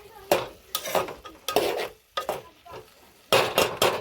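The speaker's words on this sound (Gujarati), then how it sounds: "પછી હલાઈ નાખશું" A spoon scrapes and stirs bottle gourd curry in a pan of hot oil, about six or seven loud, rhythmic strokes over a steady sizzle, close to the microphone.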